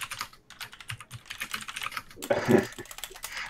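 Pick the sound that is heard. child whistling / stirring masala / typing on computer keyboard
typing on computer keyboard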